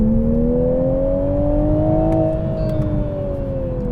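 A Toyota GR Supra with a 387-horsepower engine, driven on a circuit, gives a loud, steady exhaust drone whose pitch rises slightly and then eases back, a continuous close-miked engine note with no talk.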